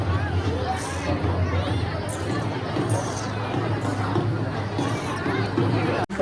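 A large crowd gathered at a political rally, with a steady murmur of many voices and general hubbub.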